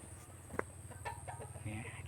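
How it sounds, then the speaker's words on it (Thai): Free-ranging farm chickens and ducks clucking at evening while gathered waiting to be fed, a short sharp squawk near the start followed by low scattered clucks over steady background hum. "ยามเย็นวันนี้เราก็พามาดูเป็ดไก่ครับที่เราเลี้ยงไว้ครับ"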